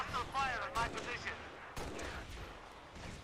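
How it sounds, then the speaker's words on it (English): Gunfire in the video game Halo: Reach, a few sharp bursts and cracks at moderate volume, mixed with a brief tonal game cue and some voice sounds. "Hostile fire at my position."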